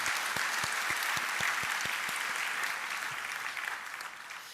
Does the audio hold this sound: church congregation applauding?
yes